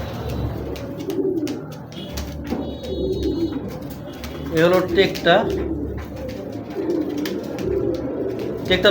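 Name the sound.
pigeons cooing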